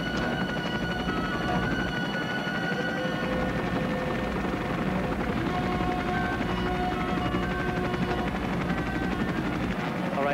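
A helicopter hovers close beside a wall during a mountain rescue, its rotor throbbing in a steady, dense, loud drone that fills the whole stretch without a break.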